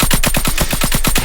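The nail gun in Call of Duty Mobile fires a fast, steady stream of loud, close shots, about a dozen evenly spaced pops in just over a second, with no talk.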